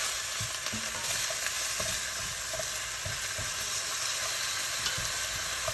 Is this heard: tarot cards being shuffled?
no